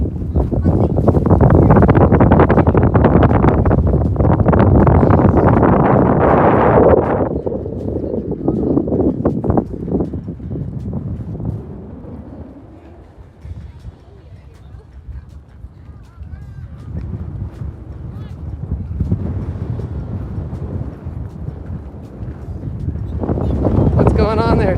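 Strong gusting wind buffets the microphone on top of Inferno Cone, a steep cinder cone, roaring loudly at first and then easing to a lower rumble, with voices talking over it.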